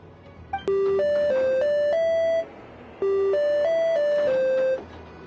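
Musical beeping prompts from a machine in the Genshin Impact video game: two matching phrases of clear electronic tones stepping up and down in pitch, each preceded by a short click, loud and alone.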